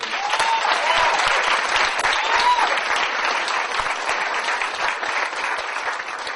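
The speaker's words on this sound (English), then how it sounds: "let's give our working groups another round of applause" A conference audience at an Army Family Action Plan outbrief gives a sustained, full round of applause for the working groups, a steady dense clatter of many hands with no voices over it.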